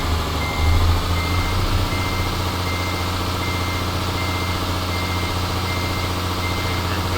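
A truck in the Euro Truck Simulator 2 video game reverses with a steady engine drone underneath, while a faint, continuous high warning tone from the reversing alarm runs through the whole stretch at moderate level.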